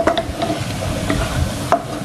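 Potato croquette mixture being stirred in a pan over the heat, with a continuous soft sizzle, repeated scraping strokes and one sharper knock near the end.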